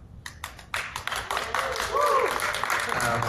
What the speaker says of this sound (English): They're already applauding the Armenian version